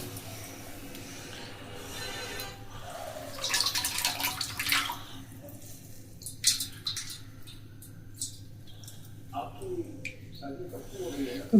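Whey water is pressed out of fresh chhana paneer curd by hand, giving soft, close squishing and trickling drips, with talk heard alongside.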